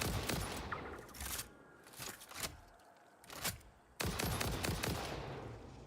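Gunfire in the game Satisfactory, with bursts of rapid shots and separate single cracks split by short quiet gaps, fairly loud and close.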